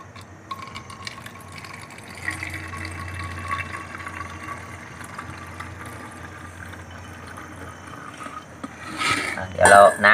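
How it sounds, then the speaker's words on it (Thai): Liquid mixture being poured into a bottle, a soft gurgling trickle under quiet background noise, ending with a couple of louder clattering handling sounds. "เทใส่ขวดนะครับ"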